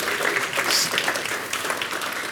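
Audience applause at a tech talk on building convolutional neural networks with Keras, a steady wash of clapping from a room full of people that fills the whole stretch without any voices on top.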